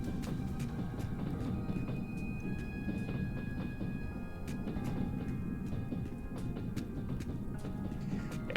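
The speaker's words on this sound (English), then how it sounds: "It's making the train bumping down the track noises." A video game train rolls down the track with a steady low rumble and regular clacking ticks from the wheels. Faint tonal hums ride over the continuous noise.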